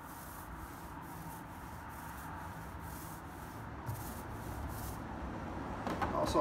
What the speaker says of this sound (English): I can go in there and get that bristle off of there and just brush it back out real quick